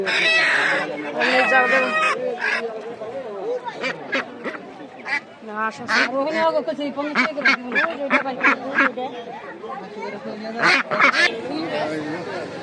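Crowded poultry at a Friday market in Munshiganj, Bangladesh, quack, honk and cluck in busy bursts close by, mixed with people talking throughout.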